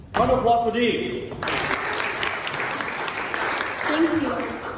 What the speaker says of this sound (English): Round of applause for Dee.